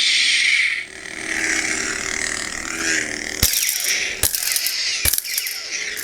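Hasbro Luke Skywalker Force FX lightsaber hums and swooshes with electronic buzzing, then three sharp crackling clash hits in quick succession.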